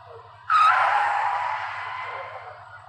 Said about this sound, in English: the sound of sharp brakes suddenly sounded